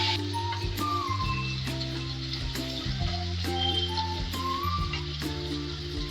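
Chicken sizzles steadily in a pan of fried onion and ginger for a masala chicken curry, a continuous close frying hiss running under tuneful background music.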